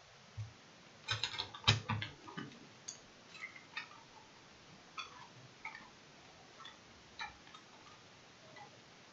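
Pencil marks being rubbed out with an eraser on paper while finishing a dragon watercolor illustration, heard as a scatter of quiet, close dry scratches and ticks in short bursts, with no one speaking.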